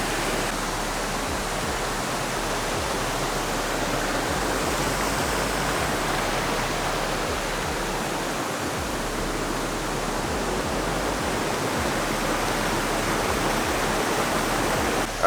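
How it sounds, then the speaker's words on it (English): Waterfalls tumbling into pools near Montezuma, Costa Rica, give a constant, dense rushing roar heard up close, steady and unbroken throughout with no talking. "we made it down here to the waterfalls"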